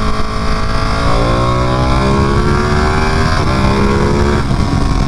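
A Ducati Panigale 959 motorcycle engine revs up and down near the microphone, with rising and falling whine and throaty exhaust, loud and continuous for the whole stretch.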